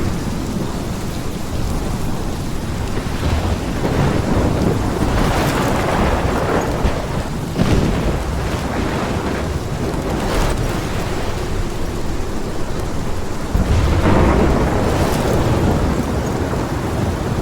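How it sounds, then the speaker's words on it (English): A thunderstorm in the video game Life is Strange Remastered: steady, heavy rain pours throughout, with rolling thunder rumbling and swelling several times, loud and close with no voices. "This is my storm."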